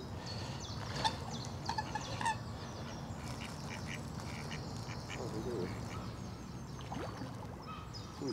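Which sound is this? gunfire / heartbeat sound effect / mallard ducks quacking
mallard ducks quacking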